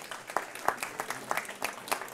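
An audience at a conference on commerce and regional development applauds, a brief burst of scattered, uneven claps heard close by, with no one speaking.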